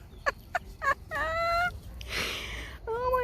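Poultry call loudly up close, with a few short clucks followed by drawn-out, harmonic squawks, and a burst of noisy rustling between them.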